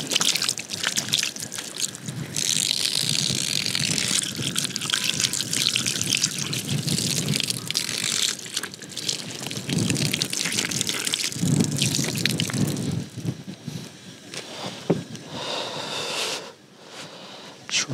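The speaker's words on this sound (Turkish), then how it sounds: "Şöyle elimi sudan geçireyim." Running water pours and splashes steadily at a campsite as a hand is rinsed beneath it, close and continuous before tapering off near the end.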